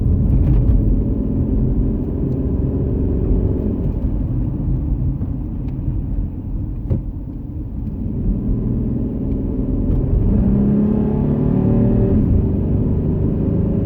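A used 2010 Jeep Liberty 4x4 SUV on the road, heard from inside the cabin as a loud, steady engine and road rumble that swells slightly near the end as it picks up speed, with no talking.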